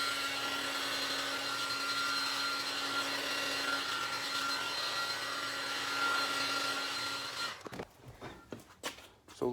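A heat gun blows a steady, even whoosh for several seconds while working near the axle seal of a 2018 Jeep JL Rubicon, then cuts off into clattering handling noises.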